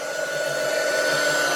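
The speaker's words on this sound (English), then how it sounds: "300 watt heat gun, mini hot air gun." A 300 watt mini hot air heat gun runs steadily close by, giving a continuous whirring blower hiss with a faint high motor whine and no talking.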